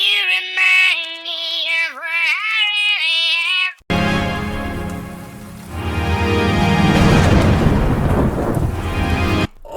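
Thunder crack and rumble from a played musical show, following a stretch of sung melody, with a sudden break into a loud, sustained crashing roar that swells and fades.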